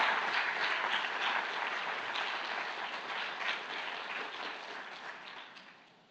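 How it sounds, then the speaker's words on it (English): An audience applauds speakers after a set of talks, a sustained wash of clapping that holds steady and then gradually fades toward the end. "let's give a round of applause to all our speakers"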